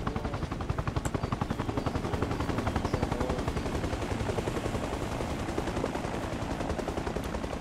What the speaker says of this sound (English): And tell if they're just shooting or they're shooting at somebody.